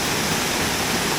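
A small waterfall on a brook trout stream pours in a steady, dense wash of rushing water, close and continuous, with no voices.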